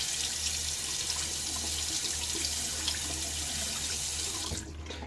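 A Timeless SS .68 OC safety razor rinsed under a running tap, a steady close rush of water into a sink that drops off sharply at the very end.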